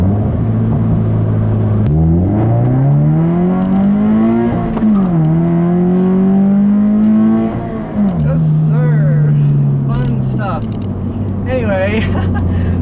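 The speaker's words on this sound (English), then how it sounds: "I'll leave you with a nice little acceleration here like I always do" A Subaru BRZ accelerates hard through several gears, its engine tone climbing steadily, dropping at each shift, then climbing again, loud and close throughout without any talk.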